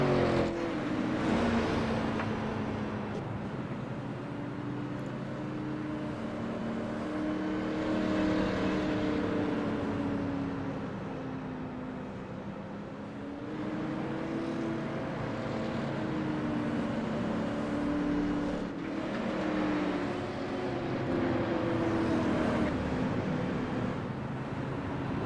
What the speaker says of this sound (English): So the pace car gathers the field back up once again to get everybody lined up